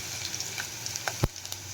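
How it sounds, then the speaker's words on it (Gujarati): Quiet sizzling of cumin and chopped garlic frying in hot oil, with faint crackles and a single clink of a utensil against the pan. "તેલ થોડું ગરમ થાય એટલે આપણે એમાં જીરું એડ કરશું અડધી ચમચી લસણ એડ કરી દઈશું"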